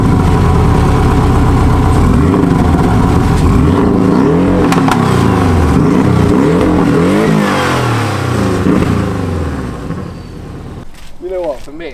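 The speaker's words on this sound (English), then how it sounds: "we're going to have a bit of a rev battle just to show stock versus sports exhaust" A Porsche engine revs repeatedly, stock versus sports exhaust, with loud rising and falling blips and a deep rumble between, followed by a short stretch of voices as the engine settles.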